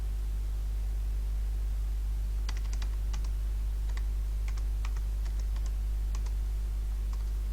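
A web address typed on a computer keyboard, with scattered quick key clicks in short bursts over a constant low electrical hum and hiss.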